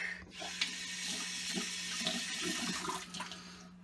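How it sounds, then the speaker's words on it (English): A razor head rinsed under a running kitchen tap gives a steady, close hiss of flowing water splashing, continuous and fairly even throughout with no speech. "And then we'll rinse it off real quick."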